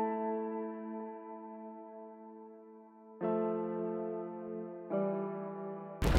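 A chord progression built from a vocal sample pitched into stacked tones, three sustained chords changing at roughly three and five seconds, smooth and synthetic with no talking.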